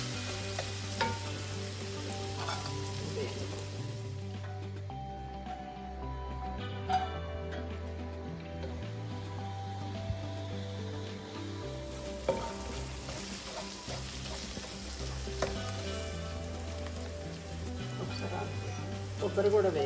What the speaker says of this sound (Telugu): ఎండు కొబ్బరి వేయించుకుందాం